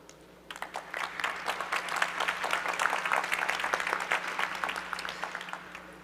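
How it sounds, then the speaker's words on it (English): Sustained audience applause fills a hall at the World Knowledge Forum as a K-pop singer is welcomed to a session, building after a quiet half-second start and holding steady, dense and moderately loud throughout. "So please give him with a big round of applause."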